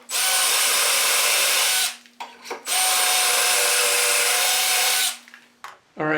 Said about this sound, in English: I'm going to drill again holes number 2 and number 4